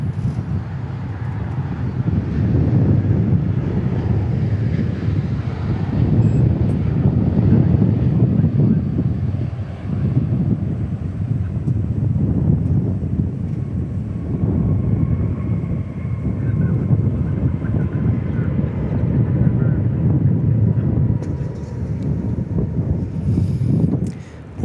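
A Qantas airliner from Melbourne at DFW International Airport, its engines a steady low roar with heavy wind buffeting the microphone, loud and continuous throughout.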